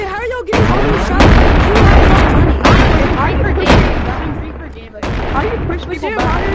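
Shotgun blasts boom out in the video game Animal Company, several loud shots in quick succession amid a chaotic multiplayer battle, with voices talking over the gunfire.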